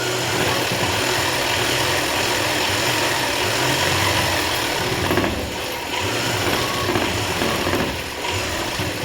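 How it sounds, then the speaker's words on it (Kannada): A sewing machine stitches a government school uniform with a continuous, close mechanical whir and clatter of gears, running steadily throughout with brief slowdowns near the end and no speech. "ನಾನು ಇದ್ರ ಮೇಲೆ ಇನ್ನೊಂದು ಸ್ಟಿಚ್ ಹಾಕ್ಕೊತೀನಿ ಪರ್ಫೆಕ್ಟಾಗಿ ಫ್ರೆಂಡ್ಸ್."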